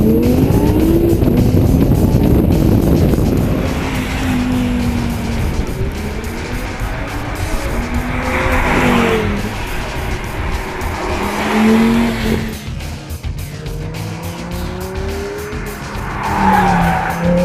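A 2013 Audi R8 engine revs hard to a high pitch near 9,000 RPM, repeatedly climbing and dropping through gears, with a tire squeal in places.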